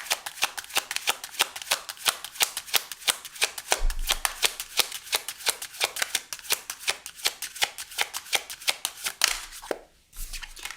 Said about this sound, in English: I was zoning out to the sound of shuffling